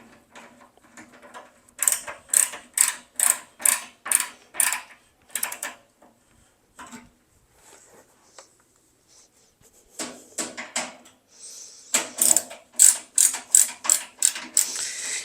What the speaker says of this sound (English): You just screw them together like this.